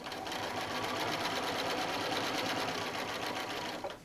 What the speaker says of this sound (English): we just want to top stitch the components together.